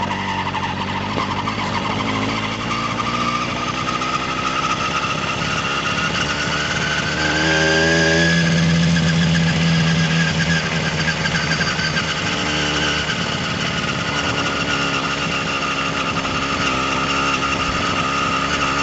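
Motorcycle engine running steadily on a night ride with only light throttle, a continuous close rumble that swells briefly mid-ride before settling back to a steady drone.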